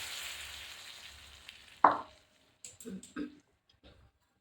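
Hot tempering poured into simmering sambar, giving a sharp sizzling burst with a loud crackle, followed by a few shorter spitting sizzles that quickly die away.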